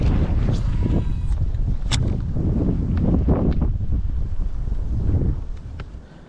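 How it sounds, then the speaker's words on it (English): Cold wind blows across open delta water during a kayak bass-fishing outing, buffeting the microphone in loud rumbling gusts that swell and ease throughout. "This cold wind is definitely not it."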